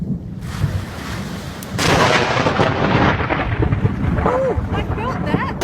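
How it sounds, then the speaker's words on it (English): A loud crack of thunder in a storm breaks out and rolls on with heavy rumbling over steady rain, close and powerful, while people exclaim and talk excitedly nearby. "Thunder, baby!"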